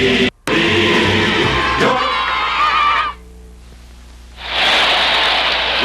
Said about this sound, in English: Listen to the crowd cheering Henry Aaron, the greatest home run hitter of all time